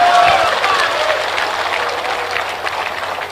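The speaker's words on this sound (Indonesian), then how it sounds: "Kalian enak aja tepuk tangan," Applause from an audience at an Islamic religious lecture, a loud burst of clapping that starts strong and gradually thins over a few seconds, with a low hum in the room.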